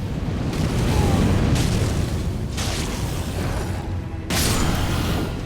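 Fire Breather spell cast in Elden Ring, a continuous loud roaring whoosh of flame with surging swells and a low rumbling bed, no talking.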